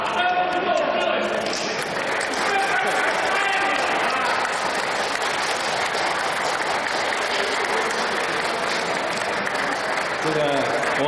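Church anniversary celebration audience applauding a bishop and priest, sustained dense clapping with crowd noise throughout, mixed with voices and chatter.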